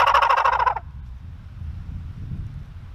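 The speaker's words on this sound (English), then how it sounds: "So a gobbler kind of sounds like this." A turkey gobbler lets out one loud, rapid rattling gobble lasting under a second, close by, followed by quiet low background rumble.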